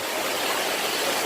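Steady, dense rush of falling water at Dunn's River Falls, Jamaica, fills the scene, a constant loud roar with no breaks.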